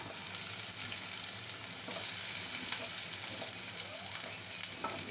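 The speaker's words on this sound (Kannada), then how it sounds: "ಈರುಳ್ಳಿ ಹಾಕಿ ಈರುಳ್ಳಿನ ಬಾಡಿಸ್ಕೋಬೇಕು" Chopped onion and crushed garlic sauté in a pan for a dry prawn fry, giving a constant soft hiss of frying that stays faint and even, with no voices.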